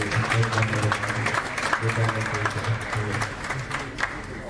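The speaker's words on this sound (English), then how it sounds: "Let's clap for them once again." Audience clapping for panelists at a mining and metallurgy annual conference, a moderate wash of applause heard under a voice speaking through a PA system throughout.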